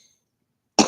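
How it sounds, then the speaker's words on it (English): A single short, loud cough bursts out abruptly after near silence. "I wasn't coughing when I hit go live"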